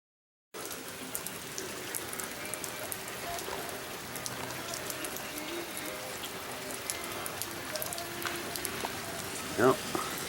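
Steady rain pattering on a surface outdoors on a rainy day, a dense continuous hiss of drops, with a brief louder knock near the end.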